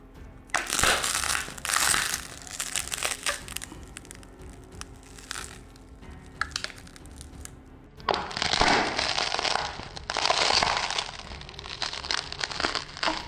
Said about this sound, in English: This is how you snap a strong solid phone and make it look weak like a biscuit.